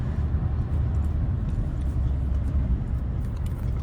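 Audi S4 B8 with an Injen air intake, a steady low engine rumble heard from inside the car, fairly faint and even with no talk.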